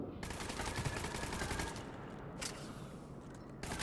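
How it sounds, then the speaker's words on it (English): Bursts of automatic gunfire and rapid shots from the video game Mass Effect 3 fill the scene, a dense loud fusillade with sharp cracks that thins out briefly before flaring again near the end. "What are you guys shooting at?"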